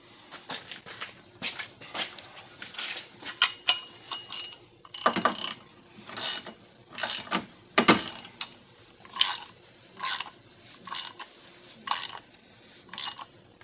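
Socket wrench ratcheting on a sensor during oil filter housing replacement on a 2015 Chrysler Town & Country, with repeated short bursts of clicking pawl strokes separated by brief pauses, close and clear with no talk.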